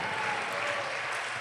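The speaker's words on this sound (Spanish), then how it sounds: "¿Cuántos pueden darle un aplauso al Señor y alabarle?" A church congregation applauds, a dense, steady clapping that fills the whole stretch at an even level, with no voice over it.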